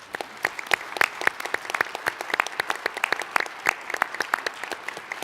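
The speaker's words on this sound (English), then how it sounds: "give another round of applause for all our very deserving winners" Audience applause at an annual medical research meeting awards ceremony, a steady dense patter of many hands clapping for the winners, fairly close and continuous with no talk over it.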